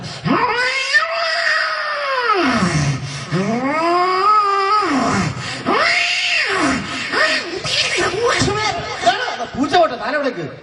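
A human mimic on stage imitates cats yowling, drawn-out rising and falling wails with a nasal, meow-like quality, loud and close, repeated several times.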